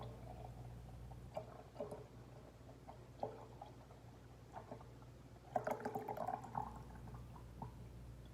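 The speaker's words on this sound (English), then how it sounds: "now we can pour this liquid lard in" Homemade rendered lard, liquid and slightly cooled, pours and trickles steadily with small drips and splashes, quiet and close, swelling briefly near the middle before settling back.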